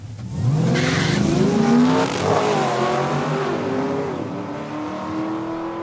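Cadillac station wagon and a Chevelle launching at a drag strip, loud engines roaring and rising in pitch with tire squeal as both cars pull away.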